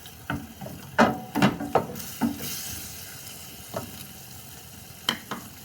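Chicken stir-fry is moved around a pan after a splash of water, with a cluster of quick scraping and clacking strokes over a low sizzle, then sparse knocks, close and fairly quiet.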